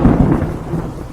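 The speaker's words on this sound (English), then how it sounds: "The storm is getting worse. Rain slams against the house like it is trying to get in." A thunderstorm rumbles low and close while rain batters a house, a heavy, rolling roar filling the whole short moment with no voices.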